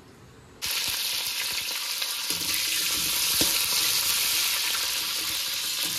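Drumsticks, yardlong beans and eggplant frying in hot oil for Bengali shukto, a loud steady sizzle that bursts in after a quiet start and holds evenly to the end, with no talk.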